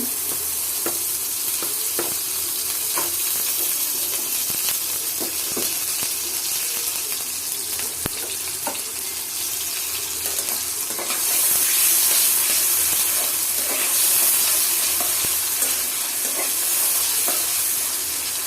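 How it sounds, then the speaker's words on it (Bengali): Onions and bay leaves fry in oil in a wok with a steady, bright sizzle, broken by occasional scraping stir strokes and clicks; the hiss swells louder toward the end. No one speaks. "আমি একটা কড়াই নিয়ে নিলাম এর মধ্যে কিছু পেঁয়াজ এবং দুটো তেজপাতা দিয়ে দিলাম এরপর তেল দিয়ে দেবো"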